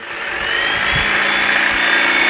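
A power saw cuts through a 3/4 inch hickory plywood sheet, a loud steady whine that rises in the first half second and holds, with low thumps underneath.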